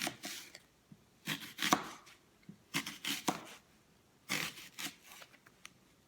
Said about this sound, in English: Go ahead and slice this half up.